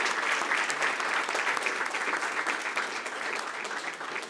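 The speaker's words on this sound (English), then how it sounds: "How about we give them a round of applause?" An audience applauds throughout a school board meeting, producing dense, steady clapping from many hands that fills the room without a break for several seconds.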